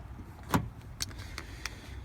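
A door on a 2011 Ford Taurus SHO is opened: a sharp latch click followed by a few quieter clicks and clunks, close up against a soft background hush.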